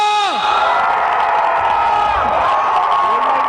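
A loud concert crowd in Pokhara roars and cheers close by, with whoops and voices rising and falling throughout, the sound dense and continuous across the whole stretch.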